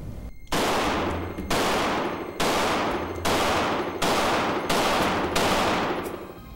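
Seven sharp handgun shots fired from a pistol fitted with a Crimson Trace laser sight ring out at a steady, even pace, each loud crack trailing off into a short echo.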